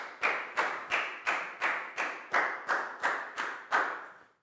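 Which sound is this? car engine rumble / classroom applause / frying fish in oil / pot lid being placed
classroom applause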